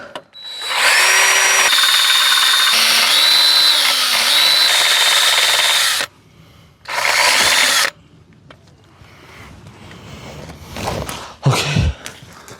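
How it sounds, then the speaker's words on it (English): A power tool grinding a stuck bolt on a car, running loud and close in two long bursts with shifting pitch, followed by clanks and rattles as work continues. "I've been grinding this bolt"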